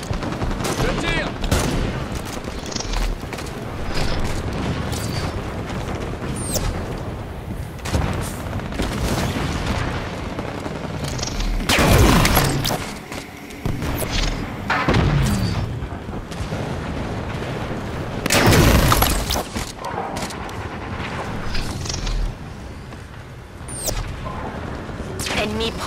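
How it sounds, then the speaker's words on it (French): Dense, rapid gunfire bursts from a Halo 5 match, with several loud broadband blasts standing out amid the sustained shooting, while voices speak over the combat. "Je tire!"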